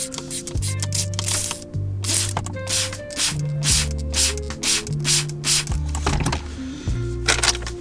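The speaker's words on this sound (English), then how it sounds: "So I'm spraying it onto the microfiber cloth right here." Several short, crisp spray bursts of glass polish onto a microfiber cloth hiss close by in an uneven rhythm, with a low electronic hum running beneath them.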